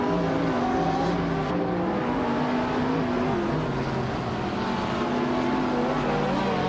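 Race car engines in a racing game drone and whine steadily, overlapping as several cars run close together, with shifting pitch and no clear pauses.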